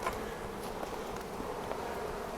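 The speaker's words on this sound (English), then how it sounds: "Happy bees." Honeybees buzz around open hive frames full of brood, a steady, fairly faint hum with no talking.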